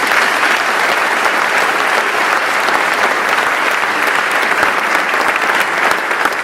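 An audience applauds at a 2015 awards ceremony, a dense, loud, sustained burst of clapping from a large crowd that holds steady from start to finish.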